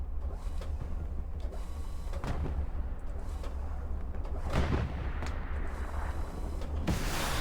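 Boats fire their guns in a naval battle video game, with a run of sharp booming shots and mechanical clatter spread across a steady noisy background.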